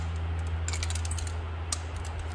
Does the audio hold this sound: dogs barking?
no